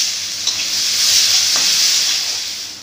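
Chopped onion sizzling in hot oil with nigella seeds, a steady, close, fairly loud frying hiss running throughout with a faint stir or two and no voices.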